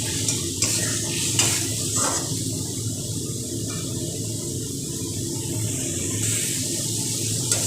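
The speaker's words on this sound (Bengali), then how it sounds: "এবার গ্যাসের স্টিমটাকে একটু বাড়িয়ে নিয়ে ভালো করে মশলাটাকে ভেজে নিতে হবে।" Spice paste fries over raised gas heat while being stirred for a raw banana kofta curry, a loud continuous sizzle with scraping stir strokes and brief clatters near the start, no talking.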